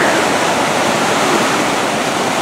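The Große Tulln river runs at high flood water in Emmersdorf near Neulengbach, a loud, steady, close rushing roar of churning water with no voices.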